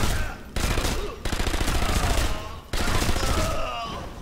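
Sustained rapid gunfire from Sniper Elite 2, a dense automatic fusillade that fills the scene loudly, broken by short gaps and resuming in heavy bursts with scattered impacts, set during a mission at Opernplatz.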